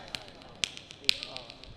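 A hand slaps against another hand in a sharp, close smack. A few quick tap-like hits are spaced out over a quiet room background.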